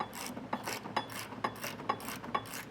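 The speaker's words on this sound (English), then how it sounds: "now we'll take a 3/4 socket and tighten this one down" A 3/4 socket ratchet tightening a bolt while fitting a trailer hitch receiver to a 2019 Honda CR-V, giving a close, rhythmic series of about six quick clicking ratchet strokes at an even pace.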